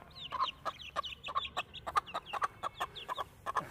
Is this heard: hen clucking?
yes